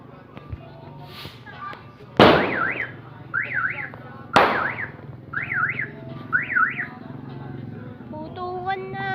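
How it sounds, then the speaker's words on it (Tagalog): New Year firecrackers explode in two loud, sharp bangs a couple of seconds apart, with a warbling car alarm wailing between and after them and voices faintly in the background. "Putukan na."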